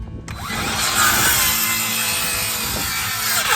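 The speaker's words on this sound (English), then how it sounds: "I'm going to use my DeWalt, that circular saw, and I'm going to cut a V" DeWalt circular saw cutting a V into the base of a pallet wood stake, a loud continuous whirring buzz of the blade biting through wood, close and steady with slight rises as the cut proceeds.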